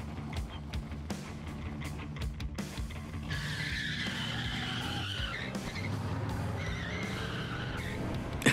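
A Hurst/Olds with a 455 engine does a burnout, its tires squealing loudly and continuously over the roaring engine. The squeal is close and sustained, with rough, gritty noise throughout and no talking.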